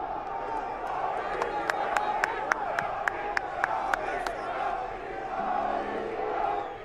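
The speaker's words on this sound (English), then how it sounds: "Everyone's booing." A large crowd at a UFC 279 press conference roaring with mixed boos, cheers and shouts, a dense sustained wall of noise with scattered sharp claps and whistles, loud and reverberant.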